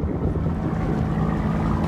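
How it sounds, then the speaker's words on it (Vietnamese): Large diesel engine of a fishing boat at sea, a steady loud low drone that runs unbroken, mixed with wind rumble and no talk. "cái máy của các chú với này anh đây là cái máy nổ này to lắm"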